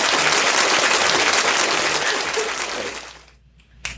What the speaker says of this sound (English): There should be an applause sound.